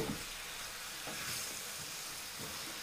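A pan of food browning in oil with lemon juice mixed in gives off a steady, soft sizzle that hisses evenly throughout, with no voices.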